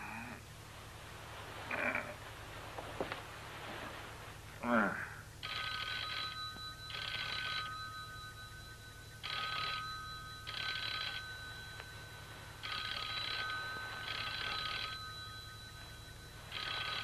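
An old telephone bell rings in paired bursts, repeating steadily about four times after a few faint earlier sounds, clear against a quiet low hum in a 1978 ghost-story drama.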